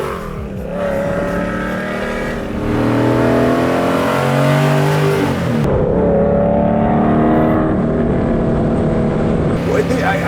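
A 750 hp 1970 Plymouth Cuda revs hard while driving, its loud, rising engine roar heard from inside the car through two climbing pulls, with people talking over it.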